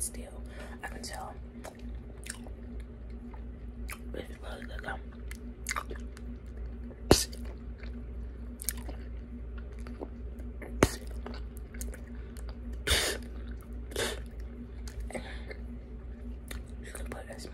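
Big League Chew bubble gum chewed close to the ear, with soft wet squishes and sharp lip smacks recurring at an uneven pace over a quiet background.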